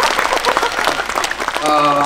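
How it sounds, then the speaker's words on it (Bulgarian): Crowd applause at a Plovdiv tribute concert, a dense wash of clapping filling the whole stretch with cheering voices mixed in and some music tones entering near the end. "Аплодисменти за този човек там горе!"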